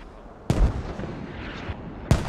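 Mortar fire in the tactical shooter Squad, heard as two heavy, booming impacts about a second and a half apart over a steady rumbling battlefield background, with no talk.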